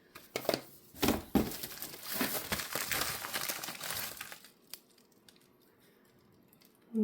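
Crinkly plastic shipping envelopes are handled and crumpled up close in several bursts of rustling and crackling, busiest in the first few seconds, then fading to near quiet with a brief sound at the very end.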